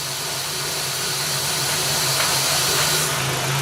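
A misfiring 2001 Audi Quattro engine runs lean, a constant airy hiss sitting over a low, steady mechanical hum, close and unbroken with no talk.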